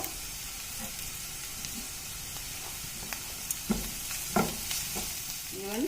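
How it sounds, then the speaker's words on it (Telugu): Onions, coriander and curry leaves sizzle in hot oil in a pan under a steady close frying hiss, with occasional stirring scrapes and clinks and no voices. "ఈ స్టేజ్లోనే కొత్తిమీర అలాగే కరివేపాకు వేస్తున్నాను"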